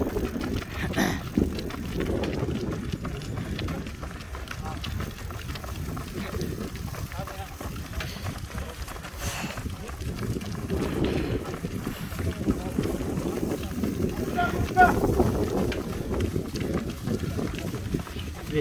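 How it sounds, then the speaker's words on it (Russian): Strong gusting wind buffets a phone microphone outdoors at a running race, a steady low roar with rises and surges throughout and no clear talk. "Ветер дует очень сильно, даже мой телефон от ветра немножко двигается"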